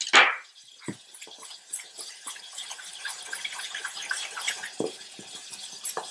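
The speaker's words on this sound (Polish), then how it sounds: "tylko po trochu będziemy tą wodę dolewać na konsystencję naszego ciasta" Water is added bit by bit to dumpling dough for soup, with a splash at the start, then small trickles, drips and soft sloshing as it is poured and worked in, close by and with no voices.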